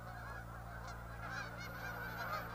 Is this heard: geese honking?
yes